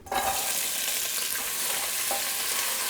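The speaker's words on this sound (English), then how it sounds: "Once my oil warms up a little bit, I'm gonna add all my vegetables to it." Mixed vegetables, cut to an even size, sweating gently in warm oil in a pan, giving a steady broadband sizzle with a few soft stirring knocks, close and continuous with no voices.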